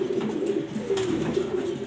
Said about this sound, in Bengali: একটা গ্রিজাল রেসার নর কবুতর